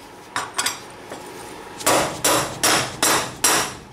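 Hammer tapping a new wheel bearing into place on a Banshee, a few light metallic taps followed by five loud, evenly spaced solid hits, close and alone.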